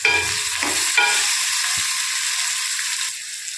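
A spiced mixture is sautéed in a pan, with a few quick scraping stirs at the start and then a steady bright sizzle that carries on alone and fades slightly at the end.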